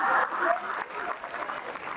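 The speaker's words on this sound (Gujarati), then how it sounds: "અનુભવીઓએ તાળી પાડી." An audience at a community awards event claps, a brief burst of applause loudest at the start and tapering off over two seconds, with a voice faintly present beneath it.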